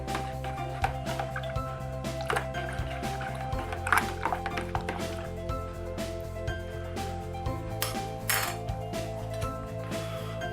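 A yoghurt starter being whisked into milk, with repeated light clinks and taps of the whisk against the bowl over a steady background hum, plus brief liquid sloshes.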